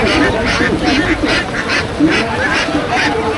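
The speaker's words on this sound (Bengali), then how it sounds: "দর্শক দেখতে পাচ્ছেন এখানে অনেক হাঁস আছে।" Many ducks quack loudly and close by in a continuous overlapping chorus, a crowded flock calling with rhythmic bursts at a rural market on a rainy day.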